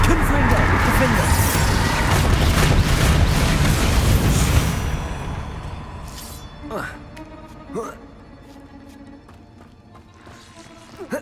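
A Confringo blasting spell in Hogwarts Legacy sets off a loud, rumbling explosion that decays over a few seconds, followed by scattered sharp impacts, with a voice speaking over it.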